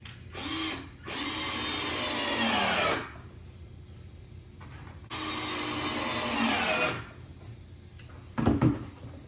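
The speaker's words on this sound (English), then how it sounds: "I'll get my screw, and I'll screw this first one in place here." A power drill drives a screw into wood while building a small picnic table: two long whirring bursts of a few seconds each, close and loud, separated by pauses, ending with a short clunk.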